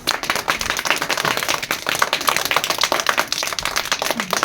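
Dense, rapid hand clapping from a group of children at a Republic Day prasad distribution, a steady crackle of many claps close by with no talking.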